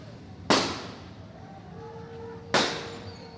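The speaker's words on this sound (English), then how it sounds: "police were firing tear gas at them" Two sharp, loud launches of tear gas fired by police at protesters ring out about two seconds apart, each with a decaying echo over a faint outdoor background.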